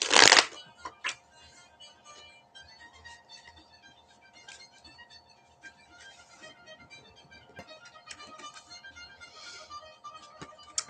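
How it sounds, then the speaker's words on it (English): Tarot cards are shuffled in a sharp riffle burst at the start, followed by a long stretch of soft, fluttering card handling and sliding, close and fairly quiet, with no talk. "let's just see what the cards say, Fire Spawn, about what you need to know"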